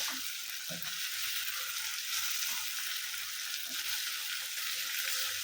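Oil sizzles and crackles steadily as chillies fry in a pan with ginger paste for chilli pickle, with occasional soft scrapes of stirring underneath.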